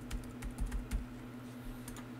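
Someone types a password on a computer keyboard while setting up a database connection: a short, soft run of keystrokes over a low steady hum.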